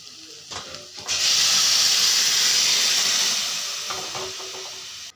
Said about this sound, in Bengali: গরম জলটা আমি পরে রেখেছি, গরম জলটা দিয়ে দেব।